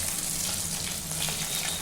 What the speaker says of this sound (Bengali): এভাবে করে ভাজতে হবে